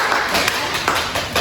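Audience applause breaks out during a student nursing group's presentation on effective coughing for pneumonia patients: a brief, steady wash of clapping with a few sharper bursts, moderately loud throughout.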